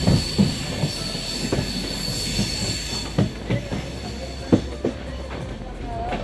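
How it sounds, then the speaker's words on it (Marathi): A train pulls into Khed railway station on the Konkan line, with steady metallic wheel squeal over rumbling carriages and scattered clunks and clicks from the rails, close and continuous. "खेड रेल्वे स्टेशनला आपली एंट्री झालेली आहे."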